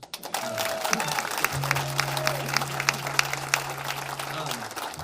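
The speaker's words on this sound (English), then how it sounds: "you all should clap for her" Audience applause at a live concert on the final show of a tour in New Albany, Indiana, a dense, steady clapping that fills the room for several seconds, with a voice audible partway through.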